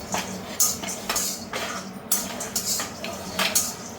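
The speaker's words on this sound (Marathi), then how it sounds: "आता इकडे पिस्ते भाजले जात आहे" Pistachios dry-roasting in a pan over a very low flame, heard as close, repeated rattling and scraping of nuts and utensil against the pan in irregular bursts.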